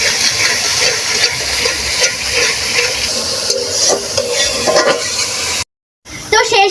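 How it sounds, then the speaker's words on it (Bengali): Spices being stirred in a pot of chicken for biryani, giving a loud, continuous hissing sizzle with shuffling stirring noises, briefly cutting to silence near the end before the sizzle returns. "তো এবার আমি সুন্দর মতো নেড়ে নেব।"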